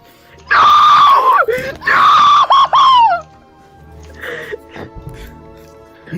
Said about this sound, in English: You should scream out as high pitched and as loud as you can